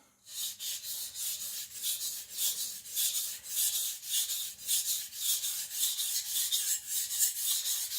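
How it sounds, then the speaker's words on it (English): The edge of a Sakon Ryuga gyuto knife is stroked across a Naniwa whetstone in regular back-and-forth passes, each producing a bright, close scraping hiss in a steady rhythm. "I'm gonna sharpen the very edge about here at 7-8 degrees."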